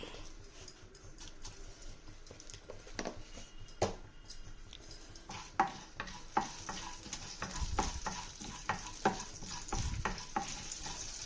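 Mustard seeds, chana dal and cumin in hot tempering oil, making a soft continuous sizzle broken by sharp popping crackles and stirring that grow busier toward the end.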